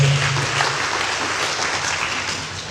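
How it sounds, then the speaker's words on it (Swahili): An audience at a university graduation ceremony in Morogoro claps, a dense, steady burst of applause up close that fades slightly near the end. "Tupige makofi kwa Dr. Samia."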